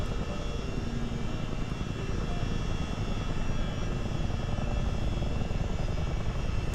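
A Chinook helicopter in Microsoft Flight Simulator 2020 hovers down to land at night, its engines and rotors a steady, dense roar that stays constant and close throughout, with no voices.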